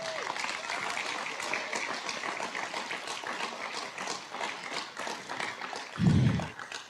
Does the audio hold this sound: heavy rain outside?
no